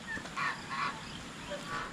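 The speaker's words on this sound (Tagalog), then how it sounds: "Yung mga pato namin oh" Farm ducks let loose in a yard give a few short, moderately loud honking calls in a loose, uneven sequence, alone with no talk.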